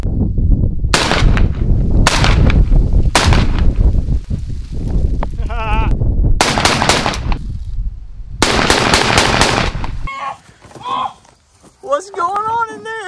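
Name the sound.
AK-47 gunfire in a video game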